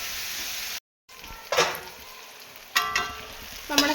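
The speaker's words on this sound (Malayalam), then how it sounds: "നമ്മുടെ സവോള നല്ല വഴണ്ട് കിട്ടി." Onions frying in a pan with salt and curry leaves, a steady sizzle with a brief gap and a few louder bursts as they are stirred.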